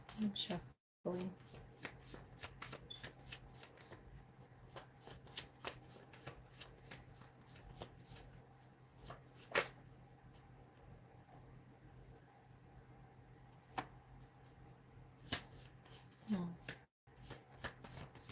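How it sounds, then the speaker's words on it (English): Playing cards are shuffled and riffled close up in repeated crisp bursts, with brief pauses between rounds and a constant low hum beneath. "I'm shuffling."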